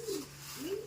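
Two soft, low coos from pigeons in a breeder's loft, faint against a steady background hum.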